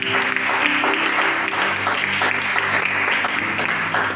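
A church congregation applauds, dense sustained clapping from many hands filling the room at steady loudness, with faint voices mixed in.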